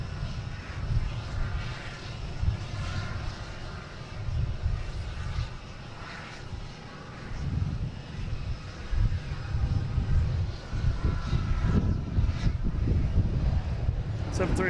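A Delta Boeing 737-800 arriving from Cancun at Boston Logan produces a broad, steady jet engine roar with some wind buffeting, while someone talks over it.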